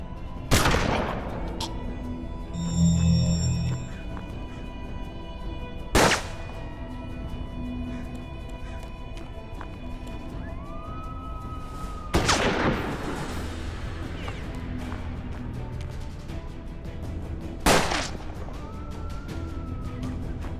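Gunshots in the turn-based western video game Hard West, four loud sharp reports spaced several seconds apart, each with a ringing tail, over a low music bed.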